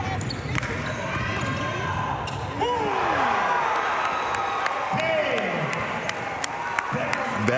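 A basketball crowd in a Nashville gym cheers a dunk after three dribbles from half court, and a mother screams among steady, distant cheering and whooping heard on a replayed recording.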